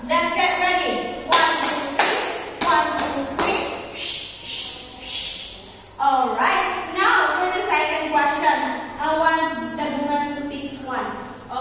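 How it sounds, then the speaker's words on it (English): A classroom of students gives a rhythmic fireworks clap, sharp clustered claps followed by a series of swelling and fading patterns, with voices speaking around it. "Let's give Ninya Lin a fireworks clap"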